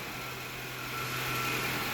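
Engine of a 2012 Honda CR-V idling in a garage after start-up, a steady, moderately loud hum with a constant low drone and a slight swell in level.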